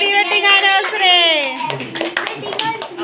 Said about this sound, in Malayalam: എല്ലാരും കൈയടിച്ചോ